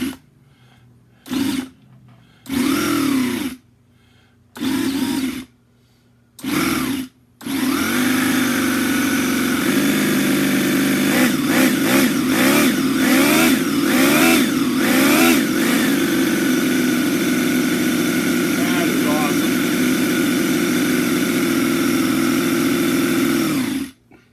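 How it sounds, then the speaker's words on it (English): A Toyan FS-B400 model engine cranks in several short bursts with pauses between, then catches and runs steadily and loudly, revving up and down in close, continuous sound for the rest of the stretch with no talking. "So let's fire it up, because this thing sounds awesome, man."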